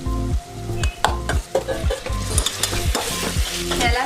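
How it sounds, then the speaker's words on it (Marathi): Marinated prawns for biryani fry in a hot pan while being stirred vigorously, giving a bright sizzle broken by repeated rhythmic scraping strokes, close and fairly loud with no talking. "आता याच्यामध्ये मॅरिनेट केलेली कोळंबी टाकून देऊया."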